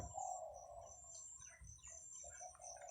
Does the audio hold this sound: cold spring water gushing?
no